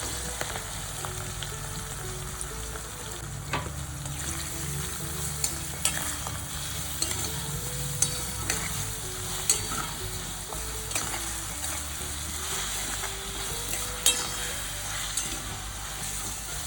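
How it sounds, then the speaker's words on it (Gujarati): Grated mango and chili pickle is stirred in a hot pan, a steady sizzle and frying hiss with repeated scrapes and clicks of the spoon against the pan, close and continuous. "અને ફક્ત આપણે 1 જ મિનિટ હલાવવાનું છે, આપણું આચાર રેડી થઈ જાય છે 1 જ મિનિટની અંદર।"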